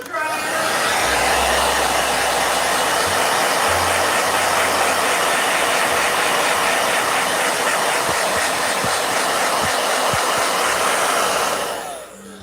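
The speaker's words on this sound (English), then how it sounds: "Blow dryer. Blow dryer." A blow dryer runs at close range with a loud, steady whooshing roar that holds for several seconds, then cuts off at the end.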